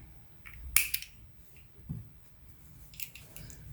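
A single quick snip as scissors cut crochet yarn, a faint close crisp click near the start, followed by soft handling rustles in a quiet room.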